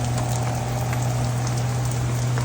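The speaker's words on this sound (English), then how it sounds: "It's raining." Steady rain falling during a severe Texas thunderstorm with hail, a continuous dense hiss on surfaces nearby with a low steady hum beneath, no voices.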